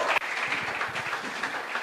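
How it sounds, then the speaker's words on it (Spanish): A church congregation applauds, a short burst of dense, crowd-wide clapping at moderate distance with no speech over it. "yo me emociono cuando darle un aplauso a Dios"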